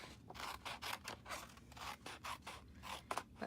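Scissors snip through paper to cut a long rectangle off a favor box template, leaving the flap, in a series of short, close rasping cuts at a steady, uneven rhythm.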